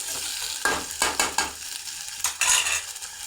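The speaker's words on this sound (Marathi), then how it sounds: "चांगले भाजून घ्यायचे बघा चांगले तेलामध्ये चांगले परतवून घ्यायचे" Black beans roast in oil in a pan while a spoon stirs them. Scraping strokes come in irregular bursts over a soft, continuous frying sizzle, heard up close.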